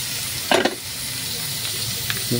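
Chicken blood grilling over an open fire, a continuous close sizzle and hiss with a few brief crackling pops now and then.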